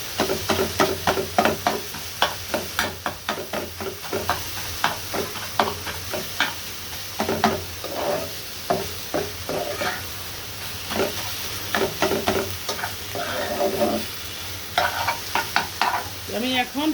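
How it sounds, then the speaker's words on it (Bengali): Red amaranth greens are stirred and fried in a wok, a steady sizzle broken by repeated sharp scraping and clattering strokes of the spatula, close and fairly loud. "এই হচ্ছে আমার লাল শাকটা ভাজা হয়ে গিয়েছে।"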